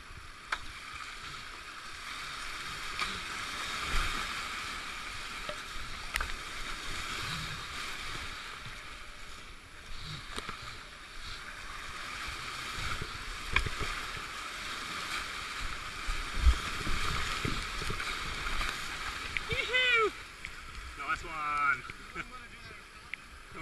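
Water laps and churns steadily on a river as a paddled boat passes during the Avon Descent race, with people talking and laughing nearby and a few bird chirps near the end.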